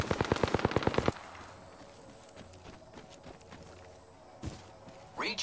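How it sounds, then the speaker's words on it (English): A quick burst of about ten evenly spaced automatic gunshots from enemies in Apex Legends, loud and sharp, followed by quieter background noise and a couple of later isolated shots. "The enemies are shooting at me"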